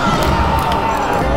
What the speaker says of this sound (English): they cheering for a CPU, huh? That's crazy.